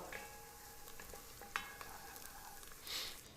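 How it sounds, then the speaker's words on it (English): Five finely chopped garlic cloves sizzle in olive oil in a pot for a smoked paella, a steady close frying crackle with a few brief stirring clinks and scrapes, no voices. "we're gonna add 5 garlic cloves, chopped finely. And we're gonna let this cook for a couple of minutes till it gets some color"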